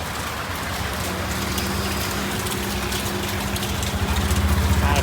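Rain falling steadily during a festival outing, a dense continuous patter on surfaces close by, with a low idling car engine rumbling underneath, no voices.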